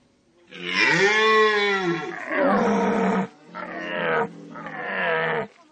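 A person imitates a red deer stag's bellow at a French imitation championship at Parc Animalier de Sainte-Croix, giving one long, loud, rising and falling roar followed by three shorter, rougher guttural bellows, close and without other voices.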